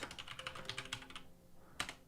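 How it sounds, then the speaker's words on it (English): Rapid typing on a computer keyboard, close and fairly quiet: a quick run of keystrokes, a short pause, then a final cluster of taps. "do my typing"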